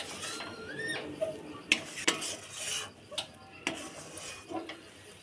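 Rice flour, milk and jaggery being stirred in a pot: a spoon scrapes and clinks against the metal in irregular, fairly quiet strokes, with a few sharper knocks along the way and no voices.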